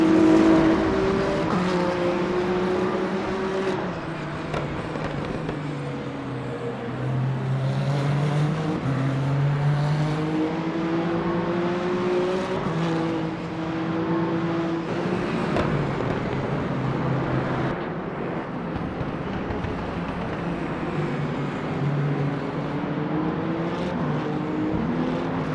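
A BMW race car in Le Mans Ultimate at the 8 Hours of Bahrain howls through turn 10, its loud engine note rising and falling through gear changes for the whole stretch, with no talk over it.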